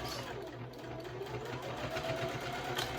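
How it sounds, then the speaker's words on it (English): A sewing machine back stitching straight across a wristlet bag seam at a 3/8 inch allowance, a close, continuous motor whir with a rapid needle rhythm. "I'm lining it up and going straight across. Back stitch."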